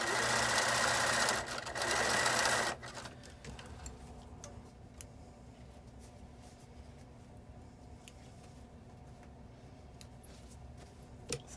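A sewing machine stitching a fabric face mask runs in a loud, fast, steady burst near the start. Then it stops, leaving quiet ticking and light handling noises.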